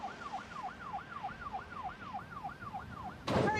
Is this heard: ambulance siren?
yes